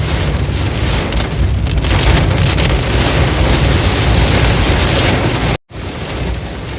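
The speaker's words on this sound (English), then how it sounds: "There is heavy rain and fog." Heavy rain drums steadily and loudly on a car driving through fog near Nagarhole Tiger Reserve between Virajpet and Mysore, a dense continuous roar that cuts out for a split second before resuming.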